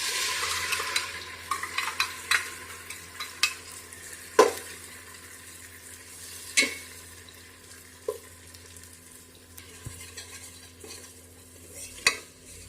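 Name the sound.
ground masala paste frying and being stirred with fried onions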